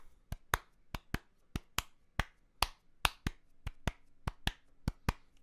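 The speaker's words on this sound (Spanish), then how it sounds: "Yo quiero que este ritmo que yo voy a hacer con mis palmas" Bare hands clap out a rhythm in a music theory lesson: about eighteen sharp, close claps in an uneven, syncopated pattern, each standing alone against near silence.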